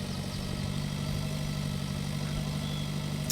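A tractor engine in the farming game Pure Farming 2018 runs steadily, a loud, constant mid-low drone with no voices over it.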